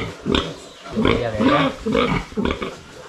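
Pigs on a farm grunt and squeal in several loud, overlapping bursts close by, with short pauses between outbursts.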